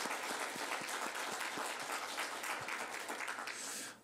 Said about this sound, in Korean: 우리 박수를 하나님께.